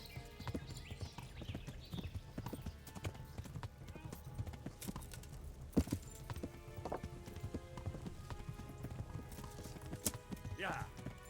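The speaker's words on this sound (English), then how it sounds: "Horse!" Horse hooves clip-clopping at a steady galloping rhythm in the medieval game Kingdom Come: Deliverance, close and continuous, with a brief whinny near the end and voices talking over the action.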